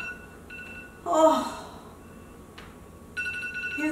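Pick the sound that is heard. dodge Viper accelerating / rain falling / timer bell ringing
timer bell ringing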